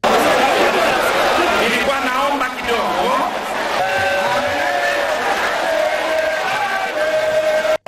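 A compact crowd packs the Place de la Grande Poste, a public square, with dense, loud chatter of many overlapping voices, occasional shouts and whoops, steady from start to finish.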